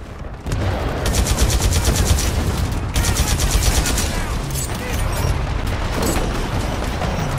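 Rapid bursts of automatic gunfire in the Attack on Titan video game rattle close and loud, several volleys separated by brief breaks, with a low rumble underneath.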